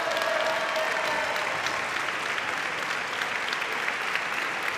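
Steady, sustained applause from an audience at a university graduation ceremony honoring 54 graduates in Criminology and Public Prevention Policy, a dense even wash of many hands clapping throughout.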